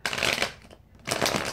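A deck of playing cards is shuffled twice, two brisk riffling bursts close up with a short pause between them.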